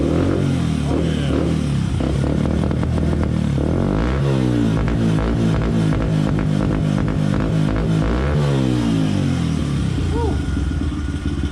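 A Honda XR80R dirt bike, carb not rejetted and still cold, revs repeatedly with rising and falling engine pitch, a slightly uneven stuttering note close up, and a brief voice cheering near the end.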